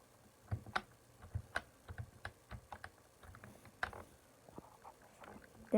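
Keys tapped on a Nos K200 computer keyboard, a series of distinct, sharp clicks at uneven pace, fairly close and quiet, with short pauses between bursts and no talk.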